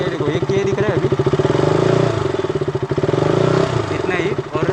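Motorcycle engine being throttled gently in first gear while the clutch is eased out, a close, loud pulsing putter rising slightly in revs, with someone talking over it.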